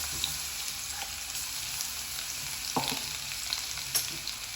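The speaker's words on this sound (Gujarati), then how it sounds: "એને મસ્ત તેલમાં સસડવા દઈશું" Chili and coriander paste sizzling in hot oil, a bright, steady crackling hiss with occasional sharper pops and spatters, close and continuous without any talking.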